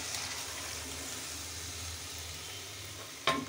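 Boiled potato and papaya cook in a cumin and coriander masala with green chillies for a thin lata fish cumin curry, giving a steady soft sizzle throughout with one brief clatter near the end.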